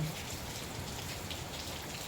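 Heavy rain pours steadily outside a house in General Santos, a dense, continuous hiss of drops drumming on surfaces with no pauses and no voices.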